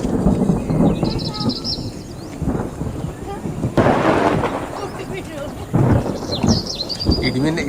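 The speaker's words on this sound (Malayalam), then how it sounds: "ഇടിവെട്ടുണ്ട് സൗണ്ട്." Thunder rumbles in bursts during rain on a hill road trip, with steady rainfall throughout, a few birds chirping, and people talking at moments.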